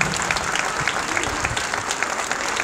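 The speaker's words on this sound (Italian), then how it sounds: "Facciamo un altro applauso" A crowd at a pre-match ceremony in Pomezia applauds, a dense steady wash of many hands clapping throughout, loud and close.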